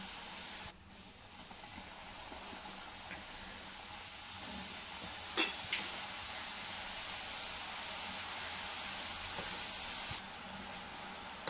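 Continuous crackling sizzle of oil deep frying wheat flour biscuits, a dense steady hiss with a few faint pops, no voices.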